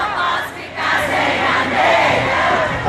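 A concert crowd of women at a show sings along together in a loud, roaring mass of voices, the sound dense and continuous and dipping briefly before swelling again.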